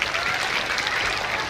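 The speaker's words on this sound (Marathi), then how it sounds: "टाळ्या वाजवायच्या आहे आमच्या कलाकारासाठी." An audience at a school annual function claps for the performers, a short burst of dense, even applause from many hands in a hall.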